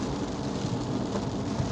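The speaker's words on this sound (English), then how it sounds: "It is now raining," Steady rain drumming on a car from inside the cabin, a dense continuous patter that holds evenly through the moment with no voices.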